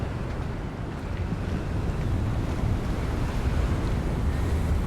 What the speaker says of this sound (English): Sounds a bit windy.